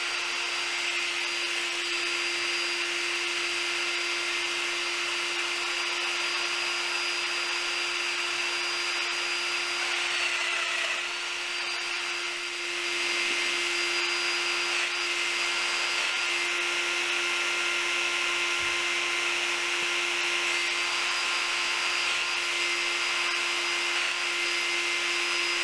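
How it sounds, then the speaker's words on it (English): A domino joiner cuts mortises into wood for a TV stand with drawers, giving a steady, close whine and rasping hiss of the cutter with a brief dip partway through. "I'm going to use my domino joiner, and I'm going to put 2 dominoes per side"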